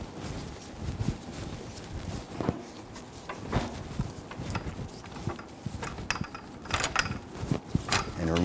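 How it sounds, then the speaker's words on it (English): A floor jack is lowered beneath a 2011-2019 Ford Explorer during front CV axle work, giving a run of irregular mechanical clicks and clanks with faint background noise. "Go ahead and lower the jack."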